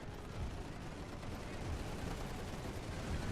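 Dense, steady crackle of massed rifle fire from soldiers in The Great War 6.0 game, a low rumbling wash with no clear pauses.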